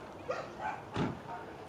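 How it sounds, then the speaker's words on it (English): A dog in a residential neighbourhood gives a few short, close barks and yips spread over under two seconds, each bark brief and sharp with quiet gaps between them. "Now I've got the dogs going, of course."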